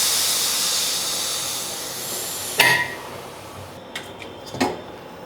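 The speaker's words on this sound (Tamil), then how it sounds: "குக்கரில் வெயிட் போயிடுச்சு, நம்ம திறந்து பார்க்கலாம்." A pressure cooker holding cooked dal and vegetables hisses with a steady steam release that fades out, followed by a sharp metallic clank of the lid and a couple of lighter knocks.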